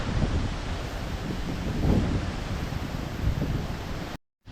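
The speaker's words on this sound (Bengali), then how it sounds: "বাতাসের কি একটা বেগ আপনাদের কাছ থেকে শুনলে তো বুঝতে পারতেন" Strong wind sweeps across the Nilachol hilltop in Bandarban, roaring and buffeting the microphone as a steady loud rush with gusts, cutting off briefly at the end.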